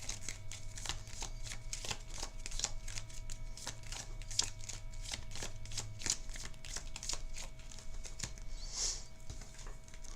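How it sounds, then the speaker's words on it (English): Riffle shuffling of a small deck of playing cards during a Microvores: The Drift prototype tabletop game, repeated quick papery flutters and snaps over about ten seconds, close and fairly quiet, with no talking. "Since we only have 1 card left in our deck, we're going to shuffle."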